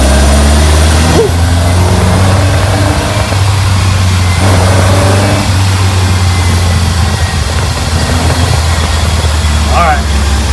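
A 1965 VW Beetle's air-cooled engine runs loud and close while the car pulls away and accelerates, a constant low rumble with shifting revs, and a voice briefly calls out over it.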